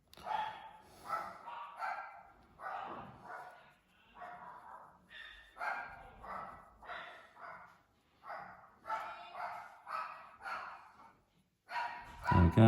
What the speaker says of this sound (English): Apologies if you can hear dogs barking.